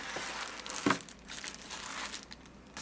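A thin plastic bag crinkles and rustles while a 50000mAh power bank is unboxed, close and continuous, with one sharper crackle near the start.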